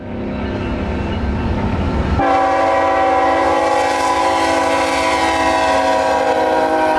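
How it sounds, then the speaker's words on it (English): A BNSF freight train rolls past close by with a continuous loud rumble, and its horn blares in a long sustained blast that holds to the end. "BNSF 3273"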